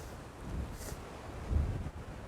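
Wind at a cold sunset spot in Mukilteo, Washington buffets the microphone with a low, gusty rumble that swells twice during the short stretch.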